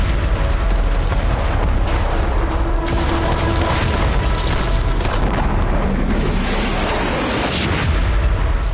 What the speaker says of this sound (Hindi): अल असद बेस पर फिर भी धमाका हो गया